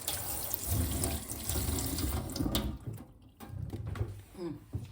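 Vegetables for pickling rinsed in a second wash under a running tap, a steady close splash of water into a basin that briefly thins out midway and then resumes.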